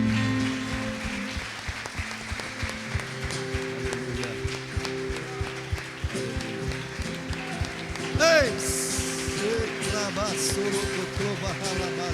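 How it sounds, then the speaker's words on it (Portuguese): A church congregation applauding during a service, rhythmic clapping over sustained music with voices singing and talking on top, moderately loud throughout. "Você pode aplaudir Jesus?"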